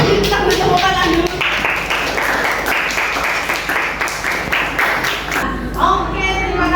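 Group of people clapping during a classroom lesson on faith, a dense patter of hands that swells for about four seconds, with a voice talking briefly before and after.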